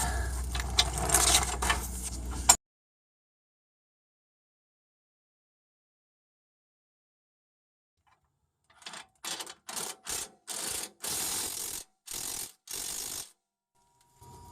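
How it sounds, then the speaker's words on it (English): A wrench threads nuts onto the rear strut bolts of a Ford Explorer, first a short burst of clatter, then long silence, then a quick run of close ratcheting clicks in short repeated bursts. "Now we'll just put on the nuts hand tight."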